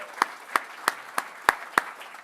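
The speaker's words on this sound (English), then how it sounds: "So give them a big round of applause." Six separate, evenly spaced claps ring out over about two seconds, crisp and fairly near, at a spring fundraiser gala for a clinic, a sparse beginning of applause for donors with no talk.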